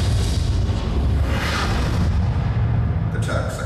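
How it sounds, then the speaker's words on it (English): Heavy naval guns fire on Turkish positions in a 1915 wartime scene, producing loud, continuous booming and rumbling blasts that fill the whole stretch with dense low-end thunder. "The Navy pounded the Turkish positions with heavy guns."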